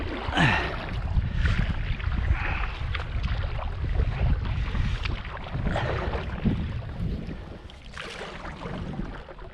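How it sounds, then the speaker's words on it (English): Strong wind blowing across open water during a canoe paddle near Kingston, Ontario, a loud continuous rushing buffet on the microphone with low rumbles and faint water movement beneath, no talk. "the wind was just too strong"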